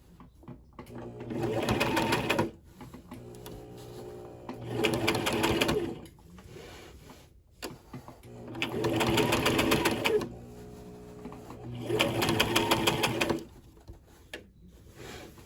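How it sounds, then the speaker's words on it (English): A sewing machine stitches a skirt in four long motorized runs, each roughly two to three seconds, separated by short quiet pauses, loud and close with no talking. "And now we sew."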